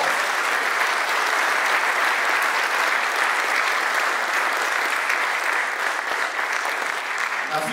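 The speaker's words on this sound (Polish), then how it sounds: "Wielkie brawo!" A crowd at a football association centenary award ceremony applauds steadily and loudly, with dense, continuous clapping throughout that eases slightly at the very end.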